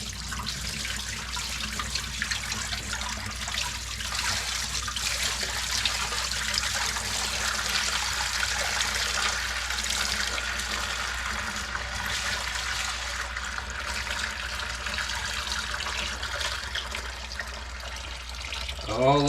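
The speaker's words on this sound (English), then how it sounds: "pour out some of this brine." Brine from curing hams pours out in a steady, continuous splashing stream, moderately loud and unbroken for nearly twenty seconds, ending with a brief sound at the close.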